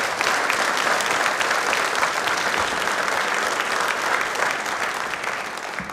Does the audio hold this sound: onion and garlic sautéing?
no